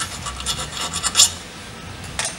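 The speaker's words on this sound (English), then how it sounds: "take a small round file, remove any burrs" A small round file rasps back and forth inside a drilled exhaust pipe, clearing burrs in a few quick uneven strokes, close and fairly quiet, with no talking.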